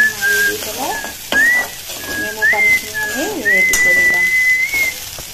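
Taro and chili frying in a pan: sizzling and stirring close by, with a thin whistling tone and faint bird calls running over it, no voices.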